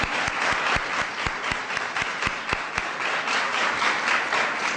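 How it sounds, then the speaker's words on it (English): A school audience of sixth and seventh graders applauds the Admiral at the White House: dense, steady clapping from many hands that fills the whole stretch at an even loudness, with a few sharp near claps standing out. "let's give another round of applause to the Admiral"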